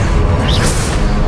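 In Hogwarts Legacy, Confringo and Stupefy spells are cast: a loud, close magical whoosh sweeps through a dense roaring blast during combat.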